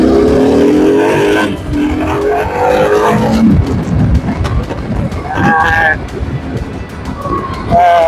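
Yezdi Adventure 2025 motorcycle pulling away and accelerating on a test ride, the engine note rising steadily and loud close to the rider, with someone talking over it for much of the time.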